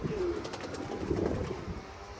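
A pigeon about to lay eggs coos softly in a low, rounded call, with a faint background hiss and no voices, a steady murmur across a couple of seconds.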